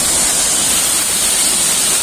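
Water gushes through a salt washing machine during salt processing, a loud constant hiss of rushing, splashing water with no pauses.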